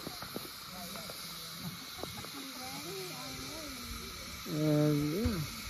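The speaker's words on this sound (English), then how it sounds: "it's a cool looking steam locomotive" Shay No. 11 steam locomotive on the Cass Scenic excursion line lets off a steady, broad hiss of steam. People talk over it and a louder voice comes in near the end.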